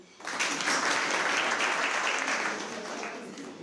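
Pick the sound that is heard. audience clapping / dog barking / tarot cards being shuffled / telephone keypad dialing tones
audience clapping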